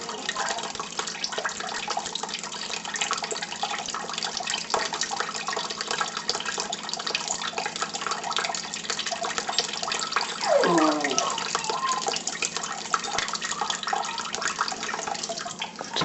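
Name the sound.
draining pinto bean cooking liquid in the sink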